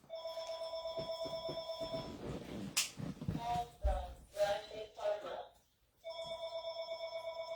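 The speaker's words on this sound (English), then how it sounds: "there's my phone call that always comes when I'm filming" A telephone rings in repeated bursts indoors on a farm, pauses while a person shuffles and talks briefly, then resumes ringing steadily and close.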